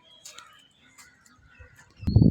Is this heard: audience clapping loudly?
no